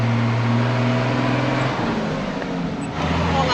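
Cars climbing a very steep hill on the way to Bloomfield, with a steady loud engine drone and low straining hum heard from inside the vehicle, and no voices.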